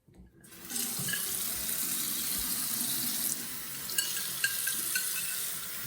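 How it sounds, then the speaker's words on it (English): Tap water pours steadily from a faucet onto a Casio G-Shock Rangeman GW9400 watch, a continuous close splashing hiss with a few brief clinks and drips, no voices. "I'm going to dip it into the water, and then we're going to rinse it thereafter"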